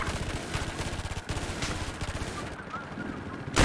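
Rapid automatic gunfire from a Battlefield 4 battle on the Lost Island map, sustained bursts of shots for about three seconds, loud and close, ending in a sharp blast.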